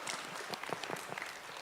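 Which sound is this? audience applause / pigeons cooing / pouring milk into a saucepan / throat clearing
audience applause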